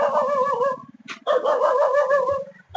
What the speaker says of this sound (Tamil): பக்கத்து ஏரியா நாய் கொலைக்குது ஃப்ரெண்ட்ஸ்.